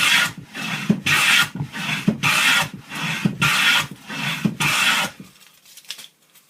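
Sharp hand plane shaving a wooden board, six rhythmic rasping strokes close up, each about half a second long with short gaps, followed by quieter handling sounds.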